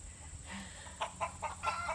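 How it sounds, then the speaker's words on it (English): Chickens give a few short, close clucks in quick succession over a soft steady background hum. "Often, you hear the chickens."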